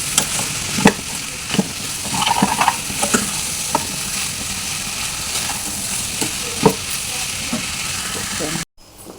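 Vegetable pieces tossed in a pan with salt and chili powder, crackling and sizzling steadily while a spoon scrapes and knocks through them at irregular intervals, ending in sudden silence.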